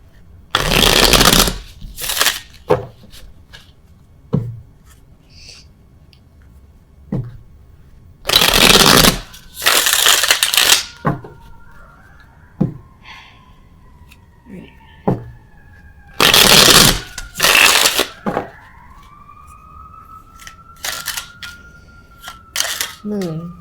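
Tarot cards shuffled in several loud riffling bursts separated by pauses, with softer card taps and handling in between, close by.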